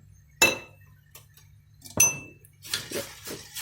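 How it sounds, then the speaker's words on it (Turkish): A spoon stirs a thickening semolina and milk pudding in a metal pot, giving two sharp metallic clinks followed by quicker, softer scraping taps against the pot, close up with no talk. "Koyulaşıncaya kadar karıştırarak pişirdim."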